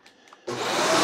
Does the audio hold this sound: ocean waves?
no